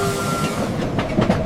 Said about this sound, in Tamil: நாங்க ஃபர்ஸ்ட் டைம் ஸ்ட்ரீம் ட்ரெயின்ல போறோம்